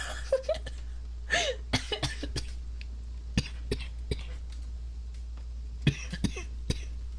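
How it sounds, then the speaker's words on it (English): A person coughing hard after a fit of laughter, a string of sharp, separate coughs spread over several seconds with quiet gaps, close and fairly loud against a low steady hum. "I laughed so hard I coughed."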